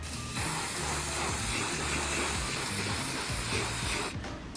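Hairspray misted from an aerosol can held at a distance over a piece of artwork, a steady continuous hiss lasting about four seconds before cutting off.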